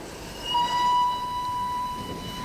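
A Vienna express train departing a station in a 1961 radio drama, a low rumble of rail noise with a brief sustained whistle tone, heard alone without talk.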